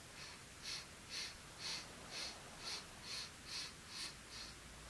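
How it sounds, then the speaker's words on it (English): Nine or ten quick, quiet sniffs in through the nose repeat in a steady rhythm, each short and soft over faint background hiss. "Little sniffs in through your nose."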